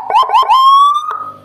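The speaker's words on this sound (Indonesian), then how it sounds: "Walaupun ini menggunakan 60 watt ya, hampir setara dengan siren yang 100 ya" Loud, close 60-watt six-tone motorcycle siren module giving a couple of quick rising yelps before settling into a steady, slightly climbing wail.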